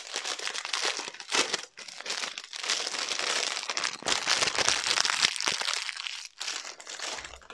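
A small notebook is unwrapped from its plastic packaging close up, giving continuous crinkling and crackling with short pauses and some tearing.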